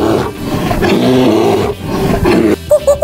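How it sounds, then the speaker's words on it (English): A polar bear gives a deep, sustained roar that swells and fades twice over a few seconds, loud and close, with no talking. "Polar bear."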